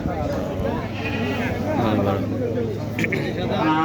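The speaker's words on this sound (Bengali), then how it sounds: "ছাগলের হাট" Goats bleat at a goat market among a noisy crowd, their cries rising over constant chatter and the bustle of many people.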